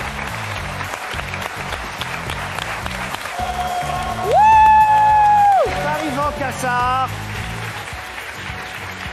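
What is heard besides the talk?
TV studio audience applause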